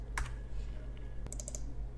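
Keys clatter on a computer keyboard as a command is typed, closing with a quick run of sharper clicks and the press of enter, close and fairly quiet over a low steady hum.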